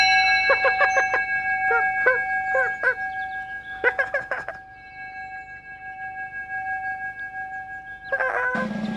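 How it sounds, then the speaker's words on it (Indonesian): Sustained ringing bell-like tones in the children's show Teletubbies, steady overtones, struck in a rhythmic series of clangs, pausing, then struck again near the end. "Menurut Dipsy, bunyi lonceng itu indah"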